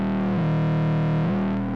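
Roland SE-02 analog synthesizer plays a thick buzzing distorted tone driven into its mixer stage, one sustained note with pitch steps near the start and end, loud and upfront before cutting off abruptly.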